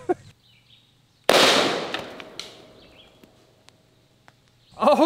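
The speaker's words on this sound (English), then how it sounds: "By far the loudest round that we've shot all day." A live ammunition round explodes in a single very loud, sharp blast, followed by a long decaying rumble and scattered small pops and debris sounds, with brief voices at the start and end.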